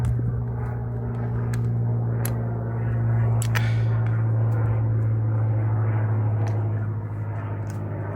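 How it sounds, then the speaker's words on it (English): A propeller airplane drones steadily overhead throughout, a loud continuous engine hum with a slight swell midway, heard outdoors near a Rover P6 under recommissioning, with a few sharp clicks and knocks on top. "Sorry about the plane overhead."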